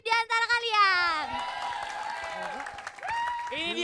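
An audience in a studio applauds and cheers in steady clapping, with whoops and the tones of voices rising above the crowd.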